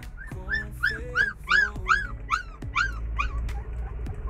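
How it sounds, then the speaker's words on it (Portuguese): A puppy being weaned by its mother cries and whimpers in a run of high, rising-and-falling yelps, about a dozen close, loud calls in steady succession with no talk. "Tá vendo aí o cachorro chorando? É o filhotinho."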